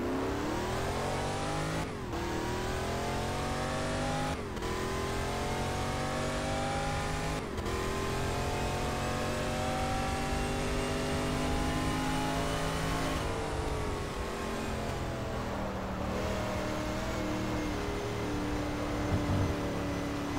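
A De Tomaso Pantera race car in GT Legends at Spa-Francorchamps, its engine climbing loudly through the revs with sharp gear-change breaks, a sustained near roar of racing acceleration.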